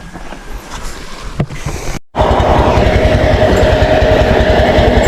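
A boat engine runs at sea, a loud, continuous droning rumble mixed with water and wind noise, briefly cutting out before resuming steadily.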